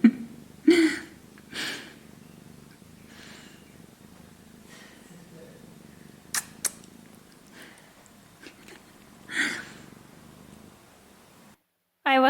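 A pet cat purring close up, a soft, continuous rumble broken by a few sharp breaths and small sounds near the mic.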